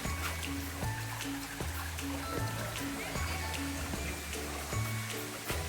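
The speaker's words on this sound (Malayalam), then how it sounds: "ഈ വെള്ളച്ചാട്ടത്തിൻ്റെ അരുവിയുടെയൊക്കെ ശബ്ദമാണ്" Water from a waterfall and stream in a village setting rushes in a steady, soft, hiss-like flow. A repeating rhythmic musical pattern plays over it throughout.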